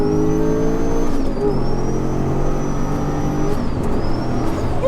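A 730 bhp Audi RS4 fitted with a rear-mounted turbo V8 accelerates hard. The engine gives a loud, continuous drone close by, its pitch rising steadily and dipping briefly at each gear change.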